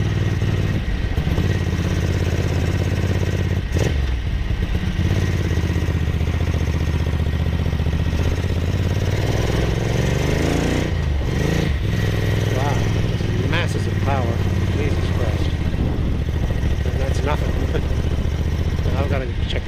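A restored Ducati 900SS Bevel motorcycle engine runs loud and close, a steady throbbing drone with some revving, while a rider speaks over it.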